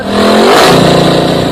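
A motorcycle engine revs up loudly nearby in one brief rising surge, then settles into a steady rumble.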